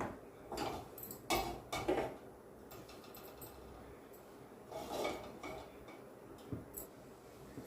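A vessel is set on a kitchen stove before oil is heated for a fish curry, giving a few quiet metallic clanks and knocks spaced over several seconds against a soft background, with no talk.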